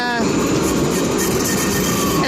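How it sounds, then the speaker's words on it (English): A train pulls into a station in Jerusalem with a loud, continuous rolling roar and a brief high squeal at the start, close by and steady to the end, with a voice faintly mixed in. "And of course, the train is coming now."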